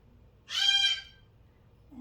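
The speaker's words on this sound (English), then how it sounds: "He's a very jealous cockatoo." A cockatoo gives a single short, harsh screech, close and fairly loud, against a quiet indoor background.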